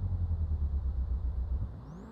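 Porsche Panamera mod in Euro Truck Simulator 2 with its engine revving loudly at low revs, a dense rumbling roar that holds steady then eases off, with a rising whine near the end.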